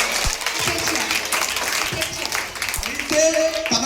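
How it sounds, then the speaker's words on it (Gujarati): An audience at a school anti-addiction program applauds a young girl, steady clapping from a crowd filling the room, with a voice briefly audible near the end. "આ છોકરી માટે ખૂબ ખૂબ તાળી પાડો તમે"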